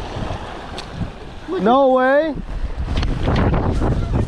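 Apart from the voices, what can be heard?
strong wind blowing into the microphone at a lake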